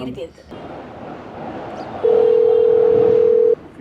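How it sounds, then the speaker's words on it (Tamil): A phone call is placed: a steady dial tone comes in and holds for about a second and a half after a stretch of muffled background noise, clear and fairly loud. "அவருக்கு ஃபோன் கால் ட்ரை பண்ணி நம்பர் வச்சுருக்கீங்களா?"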